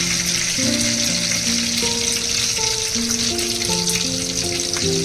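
Curry leaves, mustard seeds and cumin hit hot oil for a Marathi festival thali dish and give a loud, continuous crackling sizzle. The frying stays dense and even throughout, with no talking over it.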